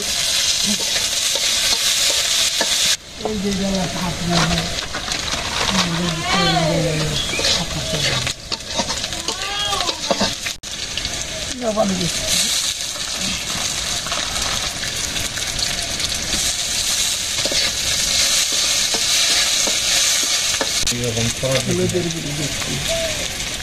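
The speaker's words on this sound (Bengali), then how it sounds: "কাঁচামরিচ দিচ্ছি" Green chilies fry in a pan with a steady loud sizzle while being stirred, scraping clinks throughout; speech runs over it, with birds faintly audible in the background.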